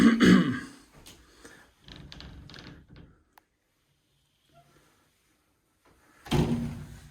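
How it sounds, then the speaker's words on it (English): Closet doors in a weather-worn South Lake Tahoe house are opened and closed, giving a run of knocks and rattles, then a quiet gap before a louder, closer thump and rumble at the end. "Unusual closet doors, but they work."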